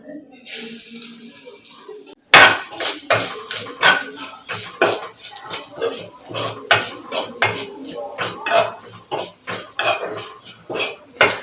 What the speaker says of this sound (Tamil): முதல்ல தேங்காயை நம்ம வறுத்து எடுத்துக்கலாம்.